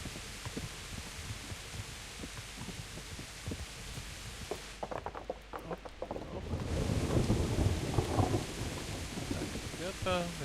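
Rain pours steadily in the Kingdom Come: Deliverance video game, with low rumbles of thunder swelling midway and a heavier roll toward the end, faint clicks and thumps scattered through.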